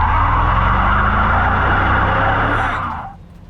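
A Ford E250 van drives on a test run with a loud, steady engine and road roar close up, fading off over the final half second.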